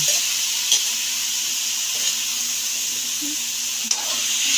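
Tomato, onion and moringa pods sautéing in a pan give a steady, close sizzle and hiss throughout, with a few faint clinks of a utensil and no voices.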